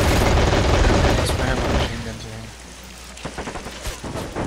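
Gunfire from infantry units in Men of War Assault Squad 2 crackles in a heavy, rain-like volley that fades, then scattered sharper shots pop near the end, with a voice talking over it.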